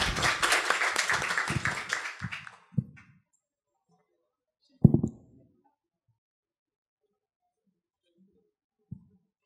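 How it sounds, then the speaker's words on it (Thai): An audience at a conservation network meeting claps to welcome a forest botany speaker, a dense burst of applause that fades out after about three seconds, leaving near silence broken by a few isolated knocks. "ขอเสียงปรบมือและเรียนเชิญครับ"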